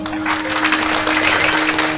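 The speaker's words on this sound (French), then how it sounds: "Sous vos applaudissements" Audience applause at a Fête de la Fraternité held at the Institut Al-Andalous: a dense, steady wash of clapping lasting about two seconds, with a faint constant tone running beneath it.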